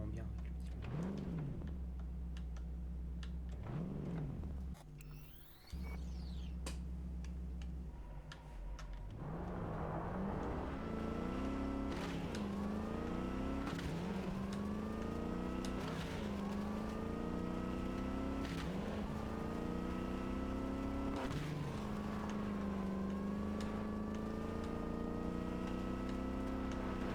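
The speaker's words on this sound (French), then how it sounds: "C'est vraiment bien avec le petit moteur." Modded car engine in the video game Cyberpunk 2077, fitted with a small engine, driving with repeated rising revs and gear shifts, loud and close, with speech over parts of it.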